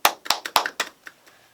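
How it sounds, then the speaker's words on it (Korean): Hand clapping from a small group in a university student broadcasting studio, several sharp claps in quick succession that thin out and fade within about a second. "박수!"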